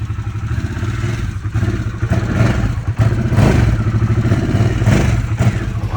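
A Harley-Davidson Sportster S motorcycle with an aftermarket stainless Rowdy exhaust rumbles loudly nearby with a deep, throaty, pulsing exhaust note that swells as it revs, without any talking.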